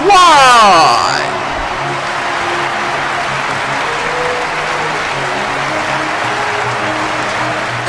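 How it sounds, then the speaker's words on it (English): An audience cheers and applauds for the 2021 Supreme Champion of a Chao Racing Tournament of Champions, with a loud burst of cheering at the start that settles into steady, sustained applause. "Kenya, give her a big cheer for your 2021 Supreme Champion, Diego Swan."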